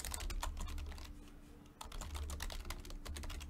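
Fast, steady typing on a computer keyboard late in the evening while logging 2016 Topps UFC Knockout trading cards, dense clicking keystrokes close to the mic with a brief pause midway.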